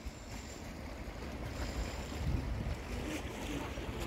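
Steady surf at a Spanish beach beside a seaside promenade makes a continuous broad wash of waves, with some wind rumble buffeting the microphone throughout.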